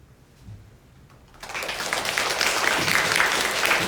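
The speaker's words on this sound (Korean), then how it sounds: "박수는 나중에 한꺼번에 해주십시오" A church congregation at a Korean Methodist Sunday service breaks into applause after a quiet moment, the clapping swelling and holding steady at moderate volume.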